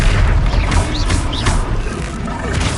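A Confringo spell in Hogwarts Legacy detonates in a loud, heavy boom with crashing debris, followed by a couple of further thumping impacts and a rumbling tail.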